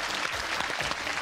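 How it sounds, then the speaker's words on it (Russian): A TV game show studio audience applauds a correctly guessed melody, a full, even roar of clapping sustained through the whole short stretch with no talk. "Зрители, давайте отметим это аплодисментами."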